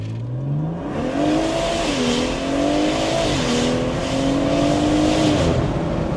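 A BMW M140i launches from a standstill with brief wheelspin, the engine note climbing steeply through several gears with rising, falling pitch sweeps, loud and close, over faint tire noise.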